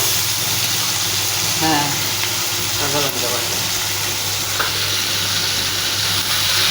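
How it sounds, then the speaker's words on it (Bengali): Cumin, ginger and green chili pastes frying with salted prawns in a pan, a steady loud sizzle with occasional stirring scrapes under a constant hum, and a voice speaking briefly over it. "সব দিয়ে একবারে কষিয়ে নিতে হবে"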